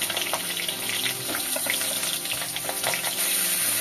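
Vegetables frying in a pan for a Bengali home-cooked meal, a steady broadband hiss and crackle that runs continuously and fairly loud close by, with no one talking.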